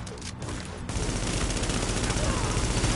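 Sniper rifle fire in the video game The Division, during the Times Square Legendary mission, comes as a dense, continuous volley of close, loud gunshots that starts abruptly after a quieter opening.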